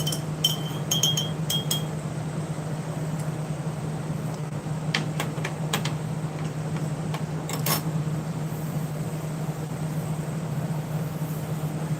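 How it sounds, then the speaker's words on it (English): A spoon clinks against a cup while stirring a mixed berry ration drink, with several sharp light ticks in short bursts over a low steady hum, fairly quiet and close. "I'm stirring the mixed berry drink again, and it's dissolving a lot better."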